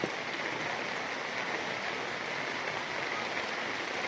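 Fast-flowing floodwater after rain rushes in a continuous, dense broadband roar, steady and fairly close, with no talk over it.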